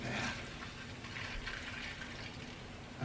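Margarita poured into a glass and foamed up, a steady soft liquid gush with fizzy splashing lasting a few seconds, close and fairly quiet.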